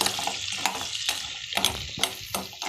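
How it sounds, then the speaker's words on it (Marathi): Turmeric and coriander powder sauté in a pan over medium heat for a crab curry, with close, repeated scraping stir strokes and soft sizzling in an uneven rhythm. "छान परतून घ्यायचं।"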